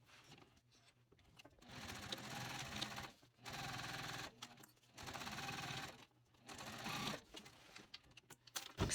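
A sewing machine top stitches panels of a mini box tote bag in four separate bursts of steady mechanical whirring, with short quiet pauses between runs, close and fairly loud.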